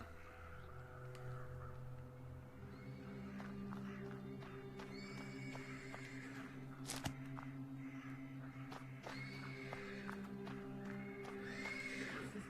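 A horse neighs and whinnies repeatedly from stables in a video game, over a steady ambient background, with faint crow-like caws and hoof sounds mixed in.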